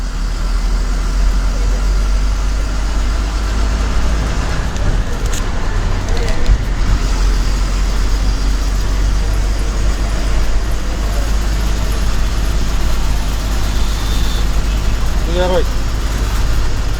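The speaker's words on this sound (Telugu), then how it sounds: "తిప్పలకట్ట బస్సు బయలుదేరింది" The Thippalakatta bus pulls out, its heavy engine drone and road rumble running steadily beneath loud, continuous talk from people nearby.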